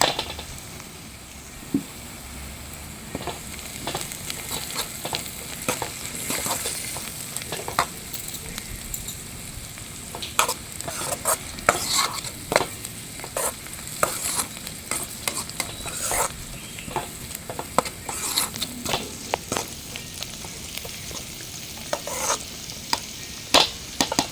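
A spoon stirs turmeric into a simmering palm-fruit pulp curry in a pan, giving repeated soft scraping strokes over a gentle sizzle, close and fairly quiet, with no talking.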